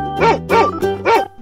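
A dog barks three times in an even rhythm, each bark loud, close and clean, with brief quiet gaps between them and nothing else heard.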